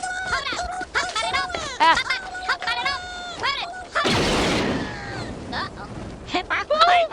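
A blaster-style gunshot in a Star Wars parody scene, one loud close burst with a hissing tail, with excited talk around it.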